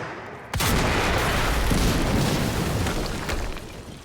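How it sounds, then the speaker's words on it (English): A loud explosion erupts in the video game Quantum Break, a sharp blast followed by a sustained roaring rumble that fills the rest of the moment before slowly easing off. "we just heard an explosion near the harvesting perimeter"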